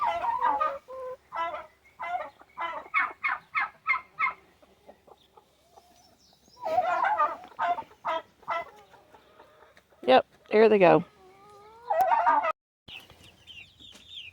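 A backyard flock of chickens clucks in short, repeated bursts at close range, with louder squawks and gobble-like calls breaking in, and a person briefly speaks over the birds.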